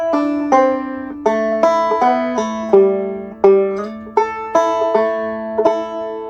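Two-finger thumb-lead banjo picks through a phrase of Cold Frosty Morning, opening with a pull-off, then a steady rhythm of crisp plucked notes that ring close and clear, played alone without talk.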